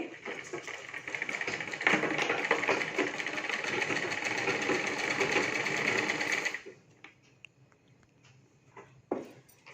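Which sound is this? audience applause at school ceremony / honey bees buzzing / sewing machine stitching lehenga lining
sewing machine stitching lehenga lining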